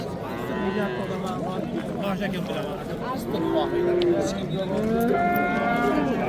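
A young bull lows repeatedly at a busy livestock market, its drawn-out calls rising over a steady crowd murmur and nearby talk.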